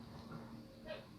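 A dog gives a faint, brief yip or bark indoors, heard once softly against a quiet room.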